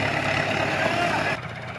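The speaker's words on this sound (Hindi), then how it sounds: "अरे ट्रैक्टर है जी 385।" A Massey Ferguson 385 tractor engine runs steadily at close range in a muddy field, a constant low rumble that drops off abruptly near the end, with possible voices mixed in.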